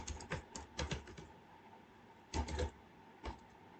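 Bursts of typing on a computer keyboard while coding, quiet and close, with clusters of rapid key clacks separated by pauses.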